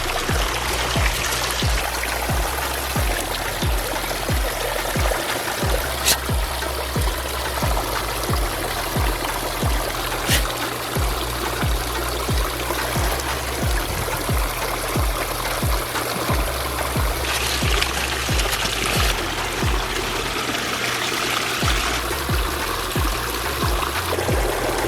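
Water trickling down a DIY bamboo waterfall into a backyard pool, a steady, fairly loud splashing pour that runs without a break throughout.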